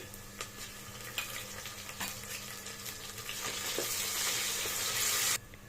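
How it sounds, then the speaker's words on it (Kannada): Ginger garlic paste sizzles and fries steadily in a pan for kushka, with a continuous crackling hiss that swells louder near the end before cutting off abruptly, punctuated by faint scraping clicks. "ಶುಂಠಿ ಬೆಳ್ಳುಳ್ಳಿ ಪೇಸ್ಟ್ ಹಾಕ್ತಾ ಇದ್ದೀನಿ ಹಸಿ ವಾಸನೆ ಹೋಗೋದು ಚೆನ್ನಾಗಿ ಫ್ರೈ ಮಾಡ್ಕೊಳ್ಳಿ"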